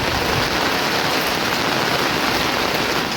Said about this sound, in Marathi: बराच पाऊस पडतो आहे